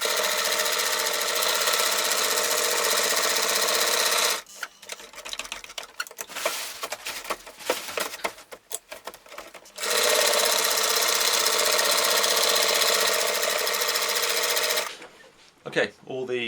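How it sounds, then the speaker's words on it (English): A sewing machine stitches reinforcing tabs onto a NATO issue IPK tarp being converted for bushcraft use, running in two long, steady, loud bursts separated by a stretch of irregular handling and shuffling noise. "just be aware of that as you're sewing"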